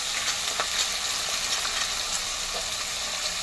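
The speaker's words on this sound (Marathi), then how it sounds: "ही पापडी याच्यात परतून घेऊया." Papdi beans sautéed in hot oil in a pan for undhiyu, giving a steady, close sizzle and crackle with occasional stirring scrapes and no talking.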